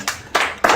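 Family members clapping, just three sharp separate claps spaced evenly, close and fairly loud, with no talk over them.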